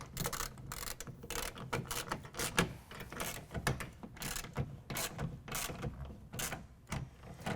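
A ratchet cranks a clamp tight against a truck side rail while a Gator SR2 roll-up tonneau cover is installed, producing steady close rapid clicking throughout with no talking.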